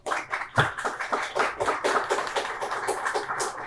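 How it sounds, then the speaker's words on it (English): Audience applause for a high school student of the month, brisk uneven hand claps close by, a short burst of overlapping claps with no talk. "We want to give you a great round of applause."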